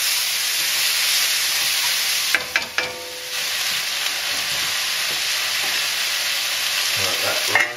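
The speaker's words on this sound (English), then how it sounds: "Yeah, definitely some chili cooking in there." Chili cooking in a pan, a broad, steady hiss of sizzling that fills the clip, broken by a few sharp clatters of a utensil against the pan.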